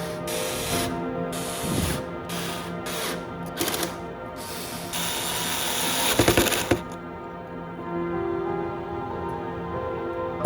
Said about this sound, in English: We'll use these clamps to secure the pipes.